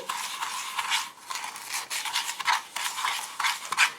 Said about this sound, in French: Donc, on va mélanger.